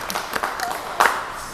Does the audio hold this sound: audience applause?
yes